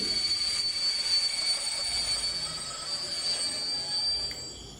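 A train rolls along rails with a sustained rumbling roar and a high, steady metallic wheel squeal, heard close and alone, fading slightly at the end, used as a sound effect in an audio story.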